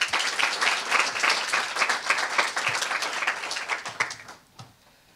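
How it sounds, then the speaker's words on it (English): A ceremony audience applauds an honoree, the instrumental music director at Independence High School, with dense sustained clapping that thins and fades out near the end. "Let's have a round of applause for David Green"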